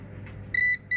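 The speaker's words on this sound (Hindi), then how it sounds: "ये देखें, अभी दोस्तों बीप आ गई है" A digital multimeter set to diode mode beeps while probing the power button of a China keypad mobile phone: one short, clear tone, then a second starting just at the end, over a low background hum.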